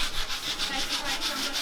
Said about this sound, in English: we sanded down the walls to get rid of any glue or irregularities.